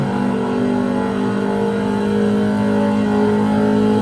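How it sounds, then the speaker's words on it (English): A 1995 Ford SVT Mustang Cobra R engine holds a loud, steady high-revving drone on the Nürburgring Nordschleife, with a whirring tone of one tire spinning under hard acceleration. "You definitely hear it spinning up one side tire."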